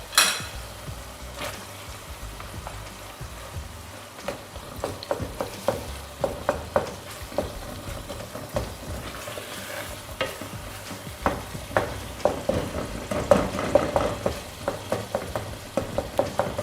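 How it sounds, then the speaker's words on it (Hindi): Masala fries in a pan for a brain masala fry, a continuous close sizzle broken by many irregular clinks and scrapes of a spoon stirring against the metal. "अब मसाले को अच्छे से हम भून लेंगे"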